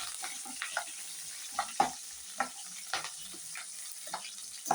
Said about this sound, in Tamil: நல்லா ஒட்ட போட்டு அப்படியே தாளிக்கலாங்க.